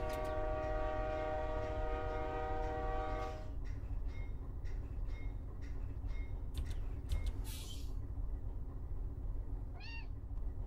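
A loud, sustained video-game train horn blares for a few seconds, then stops. A series of short ringing bell strikes follows, and a cat meows near the end.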